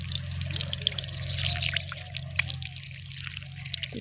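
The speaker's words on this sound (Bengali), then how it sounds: "পাইপ দিয়ে জলটা চলে যায় ওদিকে।" Water from a constantly running tap flows out through a pipe in a steady, close trickle with faint drips, continuing alone throughout.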